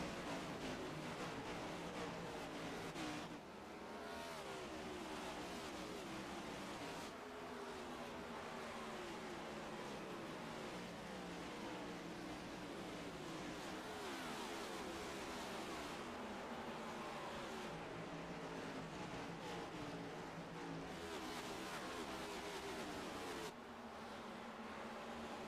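NASCAR stock cars roar around the Bristol short track in iRacing, a dense, continuous engine drone from a packed field that swells and dips as cars pass, with no speech.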